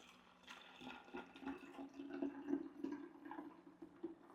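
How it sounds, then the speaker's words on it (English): Hot water pours into a container already holding an oxygen cleaner and Rocket Blast grout cleaner, a faint, uneven splashing and trickling that runs steadily for a few seconds with no talk. "And then we're going to fill the rest with hot water."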